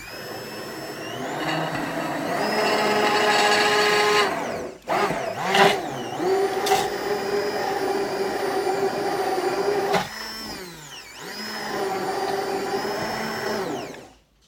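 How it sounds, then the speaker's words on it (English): A countertop blender whirs loudly as its blade spins, mixing keto coffee in bursts: a steady motor drone that cuts out briefly around the middle, restarts in short pulses, then runs again before stopping. "press this button, and you will see the blade spin"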